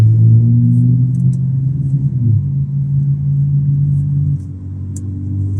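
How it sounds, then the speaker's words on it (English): Truck pulling a trailer rumbles through a tunnel, a loud steady low drone with a long sustained tone that drops and fades slightly near the end, with no voices. "I think it's the truck in front with the like trailer."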